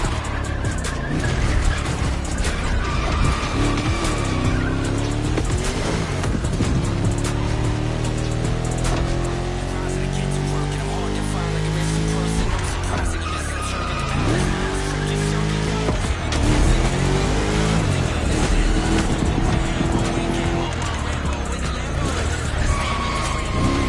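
Race cars in the Crew Motorfest video game on a Detroit street circuit like Woodward Avenue, loud continuous engines rising and falling through gear changes, with tire squeal, background music and no speech.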